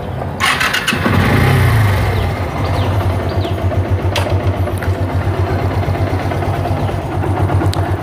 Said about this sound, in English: So सबसे पहले मैं अपनी bike का engine start कर लेता हूँ